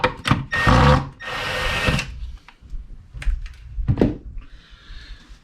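Power screwdriver whirring in two short bursts while removing the screws that hold down a subwoofer, followed by lighter clicks and knocks from handling the parts, close and loud, with no talking.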